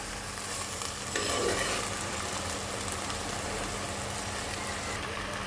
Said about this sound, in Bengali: এটাকে কিন্তু সময় নিয়ে কষাতে হবে